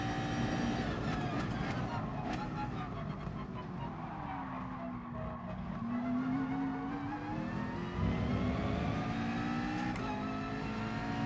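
A race car engine in the video game GT Sport drones and shifts pitch steadily, revving up and easing down under a continuous mechanical hum.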